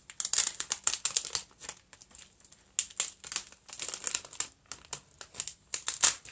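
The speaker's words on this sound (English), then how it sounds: "Just peel this off." Vinyl sheet peeled off its backing for a DIY porch sign, giving close crinkling and tearing rustles in bursts with brief pauses between them.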